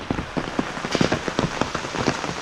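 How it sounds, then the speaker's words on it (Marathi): Steady rain patters close by, with a constant hiss and frequent distinct drops tapping on a surface. "पाऊस काय थांबायचं नाव घेत नाही"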